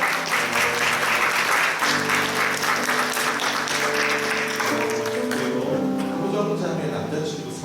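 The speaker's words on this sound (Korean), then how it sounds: "박수 한번 환영해 주실까요?" A congregation at a Sunday church service gives steady, full applause to welcome a guest, continuing for several seconds and tapering slightly at the end, with faint talk underneath.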